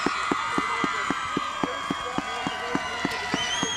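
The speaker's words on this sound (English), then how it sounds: "And there's the crowd that West Rutland has come to expect." A crowd cheers and claps at a girls varsity soccer game between West Rutland and Arlington. The clapping is steady and rhythmic, with sustained shouting voices layered over it at moderate distance.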